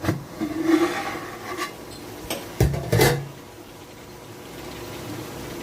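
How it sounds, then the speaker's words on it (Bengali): A metal lid comes off a pot of simmering food being cooked for Akshaya Tritiya, with two sharp, close clanks over a soft bubbling hiss that continues afterward. "আমি এবার একটুখানি ঢাকনাটা খুলবো"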